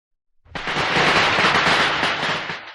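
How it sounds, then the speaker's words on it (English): A burst of night fireworks crackles and pops in rapid dense succession, loud and continuous for a couple of seconds after a quiet start, then tapering slightly toward the end. "Mom, look, the fireworks display is just so beautiful tonight."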